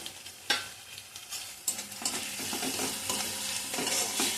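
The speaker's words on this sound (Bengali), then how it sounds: "এটা ভালো করে কষবো।" Chana dal mixture with tomato sautéing in a pan, a quiet sizzle broken by several scrapes and knocks of the spoon that grow into a continuous stirring hiss, close by.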